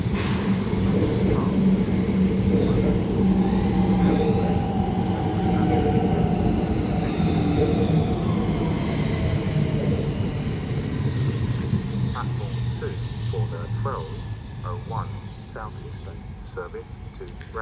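A Class 395 high-speed electric train departs Chatham station for Ramsgate via Faversham with a steady, close rumble that slowly recedes, while a voice talks over it.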